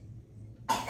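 A single short cough from a child, sudden and fairly close after a quiet moment.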